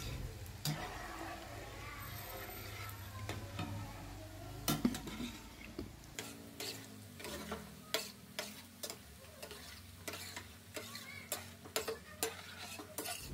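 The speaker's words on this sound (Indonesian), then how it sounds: "Gunakan api yang paling kecil saat menggoreng lumpia karamelnya ya teman-teman." Caramel lumpia fry on the lowest heat while being stirred: a soft steady sizzle under a series of sharp, regular utensil taps and scrapes against the pan, quiet and close.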